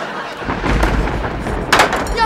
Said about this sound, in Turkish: nasıl gök gürledi duydun mu?